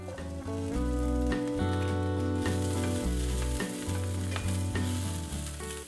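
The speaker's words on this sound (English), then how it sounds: "Saute the broccolini and mushrooms until you get some nice color." Broccolini and mushrooms saute in avocado oil in a non-stick pan over medium heat, a loud continuous sizzle broken by regular stirring scrapes and light utensil taps, with no voices.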